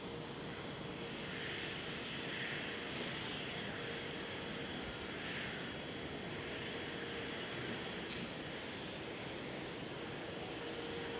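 An Airbus A330-900neo jet airliner at Amsterdam Schiphol gives off a steady, broad engine roar that holds at a constant level throughout, heard from a distance.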